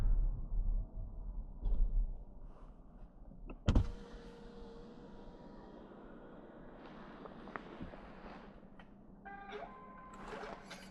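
A 2026 Geely Starray EM-i SUV's electric window motor whirs steadily for several seconds as the window lowers, with a clunk near the start and faint rustles, quiet and close.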